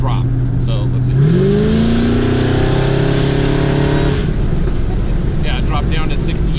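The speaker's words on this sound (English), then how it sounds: "when I hit the gas and I really tromp on it, the temps drop" A Chevrolet Camaro SS with an LT1 engine revving under hard throttle, the engine note climbing steeply and holding a loud, rising roar for a few seconds before dropping back to a rumble, heard from inside the car.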